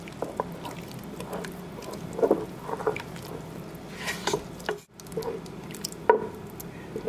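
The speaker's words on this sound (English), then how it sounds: "Take a spoon, stir it around real good." A spoon stirs a spice mixture into a wet chili gravy slush with soft squishing, clinking and sloshing, irregular and close, with a brief pause partway through.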